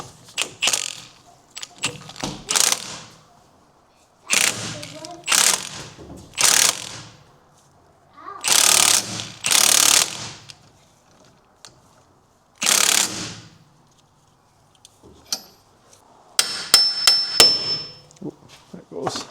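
A puller is tightened onto a Dodge Caliber SXT 4x4 JF011E CVT transmission and pushes a part out, giving a series of close, sharp metallic clicks and ratcheting bursts separated by short pauses, with no talk.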